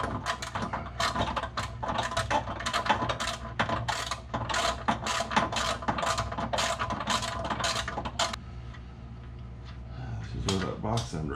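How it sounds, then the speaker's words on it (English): A 10 mm ratchet clicks rapidly in repeated bursts while loosening bolts on the sliders of a 2021 Jeep Rubicon Unlimited, sharp metallic pawl ticks close by with someone talking over them, then a brief pause. "I've got a 10 millimeter ratchet and box wrench that'll help me"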